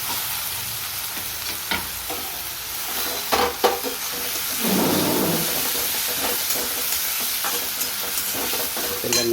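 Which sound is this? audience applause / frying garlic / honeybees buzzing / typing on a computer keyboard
frying garlic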